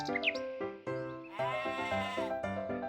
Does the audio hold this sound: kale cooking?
no